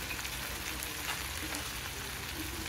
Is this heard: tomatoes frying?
yes